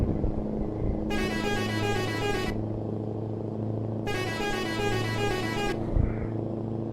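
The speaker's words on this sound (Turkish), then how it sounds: "Bakın şu standart kornası." Standard horn of a Scania R560 V8 truck in Euro Truck Simulator, sounded in two steady, loud blasts of about a second and a half each, over a low idling engine drone.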